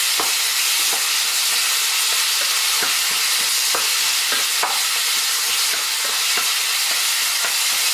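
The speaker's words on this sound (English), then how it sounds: "now is the time we'll add some onions, and I'm putting green chilies, 2 green cut chilies along with this" Onions and two cut green chilies fry and sizzle in a pan for paneer bhurji, a steady loud hiss with irregular stirring scrapes and clicks running throughout, no voices.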